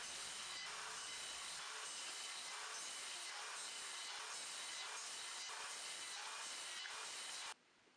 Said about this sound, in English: I then used my circular saw to cut into smaller pieces